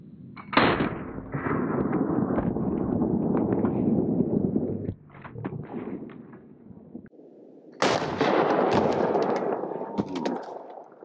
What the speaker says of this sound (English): some double aught buck high brass 12 gauge coming out of the Mossberg